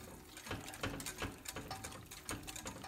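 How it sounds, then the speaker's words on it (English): A whisk beats cacao powder into a raw chocolate mixture, making a steady run of quick scraping, sloshing strokes close by at moderate volume, with no voices. "Whisk it in."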